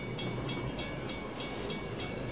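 Train rolling along a railroad track in the 1990 film Back to the Future Part III, a steady loud rumble with faint rhythmic clacks repeating about every half second.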